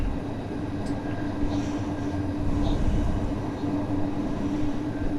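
Night passenger train rolling through a station past a freight train on the opposite track, a steady loud rumble and rail roar filling the scene with a constant low hum and faint high squeals.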